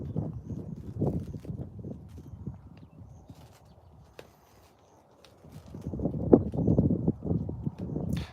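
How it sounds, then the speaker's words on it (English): Blackbuck antelopes sparring on a hillside, heard as irregular clattering knocks and scuffling that come in bursts, fairly close, fading through the middle and picking up again at the end, with a light outdoor background. "you can hear the black buck. There's some up here on the hill. They're sparring."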